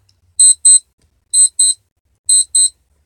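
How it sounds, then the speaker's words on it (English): A morning alarm clock rings in three evenly spaced pairs of sharp, high electronic beeps, loud and close, with silence between each pair. "I wake up to the sound of my alarm."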